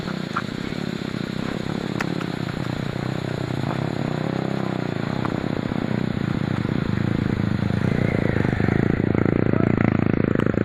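A motorcycle engine labors steadily up a steep, rough, wet and mossy uphill road toward farmland, a continuous close droning growl with some clatter, no voices.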